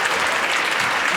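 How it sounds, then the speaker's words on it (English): A high school graduation audience applauds the graduates with loud, dense, continuous clapping and some cheering, close and uninterrupted. "Go ahead and cheer."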